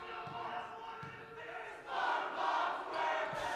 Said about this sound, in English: Even with some SpongeBob SquarePants chants from the crowd